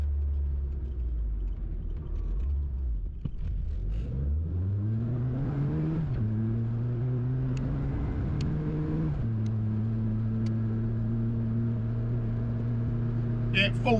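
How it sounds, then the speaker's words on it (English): A 998cc small-bore classic Mini engine pulls hard at full throttle, its loud droning note climbing steadily through two gear changes, heard from inside the car. "you plant the throttle, it's just pulling hard, or hard as it can be for a 998cc Mini small bore."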